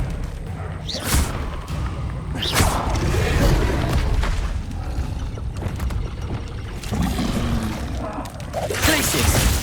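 Rapid spell blasts from a Hogwarts Legacy duel, Confringo and Expelliarmus cast in quick succession, loud bursts and whooshes layered over dense combat noise with a voice shouting spell names.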